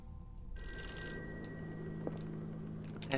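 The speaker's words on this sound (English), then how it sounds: "Answer the phone." A telephone rings in the Call of Cthulhu video game, a steady electronic bell tone sustained for a few seconds, clear and alone with a faint hum beneath.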